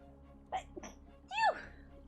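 A single sneeze close to the microphone, preceded by a couple of short sharp inhalations, over a low background hum.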